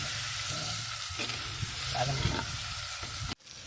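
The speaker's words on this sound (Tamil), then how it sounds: "வெங்காயம் நல்லா வதங்கிடுச்சாம்மா? வெங்காயம் நல்லா வதங்கிடுச்சு." Onions sauté in a pan as the base for a fish curry, a continuous close sizzle with stirring scrapes that stops abruptly near the end and then briefly resumes.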